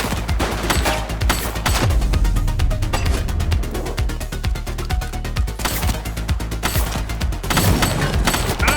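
Sustained video-game gunfire in a police shootout in The Precinct, with dense rapid shots and bursts running throughout, loud and close, with several heavier booming volleys and no talk.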